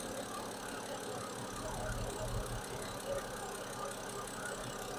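A BMW E90 with the N52 six-cylinder engine idles steadily after a VANOS solenoid replacement, giving a continuous even hum with a faint mechanical clatter and nothing else competing.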